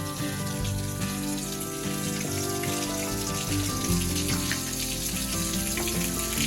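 Water flowing steadily from a cow-mouth spring spout near forest at Panheli, Mangaon in Raigad, a continuous close splashing rush with no voices over it.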